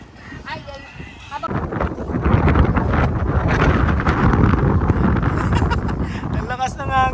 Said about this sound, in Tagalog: Ang lakas ng hangin ay